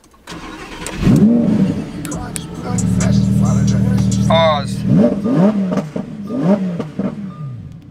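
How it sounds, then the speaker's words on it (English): Ferrari F8 Tributo engine starting up, a loud crank and bark around one second that settles into a steady, rumbling idle and rises again with revving, with someone talking briefly over it. "Oh, here we go, start up."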